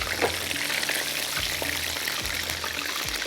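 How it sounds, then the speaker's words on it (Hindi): Shrimp frying gently over a slow flame in a pan, a steady bright sizzle with low hum and occasional knocks underneath, continuous and close. "स्लो फ्लेम पे आराम से फ्राई होते रहेंगे।"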